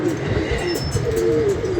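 Pigeons cooing close by in soft, repeated rolling coos over a light outdoor background, with faint voices behind them.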